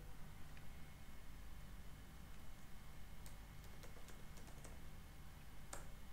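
Keys tapped on a computer keyboard while entering an npm install command for Material UI, with scattered light clicks over a steady low hum, quiet and close.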